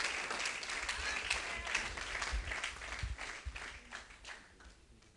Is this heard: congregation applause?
yes